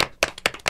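A small studio group claps to welcome an architect guest onto a talk show, several distinct hand claps in an uneven rhythm, close and clear.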